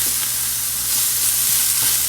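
Haitian-style chicken filling ingredients, with a little sauce added, sizzle loudly and steadily in a hot pan, a dense continuous fry with no voices.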